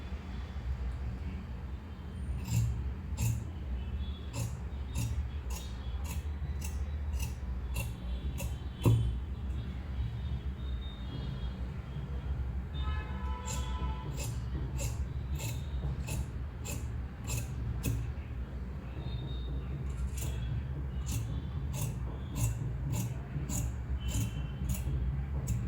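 Scissors cut the back piece of a 33-size single-breasted suit coat in a tailoring setting, heard as repeated runs of crisp, evenly spaced snips separated by pauses, over a steady low background hum.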